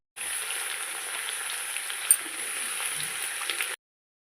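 Brinjal pieces sizzle in hot tempering oil with broad beans and curry leaves: a steady, close frying hiss with faint stirring, about three and a half seconds long before it stops abruptly.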